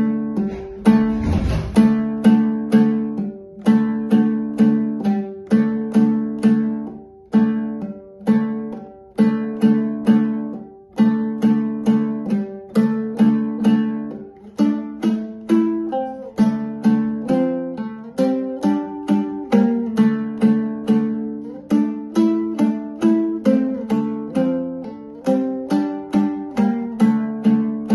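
Kurmangazy's kui Aksak Kiik on the dombra, opening with its introduction and running into the first theme: bright, fast plucked strummed notes in steady driving rhythm, loud and close, with no voices throughout.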